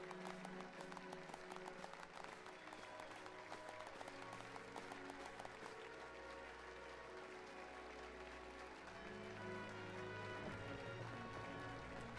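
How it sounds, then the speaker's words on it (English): Slow-clap applause at a wedding within the Final Fantasy XIV video game, a steady run of clapping held under layered in-game music and ambience, fairly quiet and continuous. "Slow clap."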